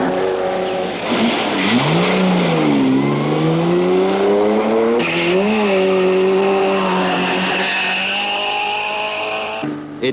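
Racing cars, British saloons among them, speed through a long-distance road race in appalling weather. Loud engines rise and fall in pitch as they pass close by, with a gear change and ongoing roaring.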